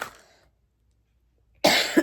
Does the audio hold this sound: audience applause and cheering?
no